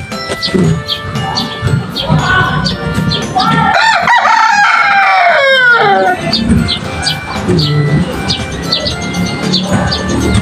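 Chinese Silkie chickens cluck steadily at close range while a rooster lets out a long crow midway, with softer chirps and cackles throughout.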